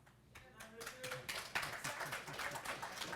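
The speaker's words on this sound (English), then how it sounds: "Sporadic applause." Scattered clapping from an audience at a panel discussion, a thin, uneven patter of hands rising slightly, with voices murmuring underneath.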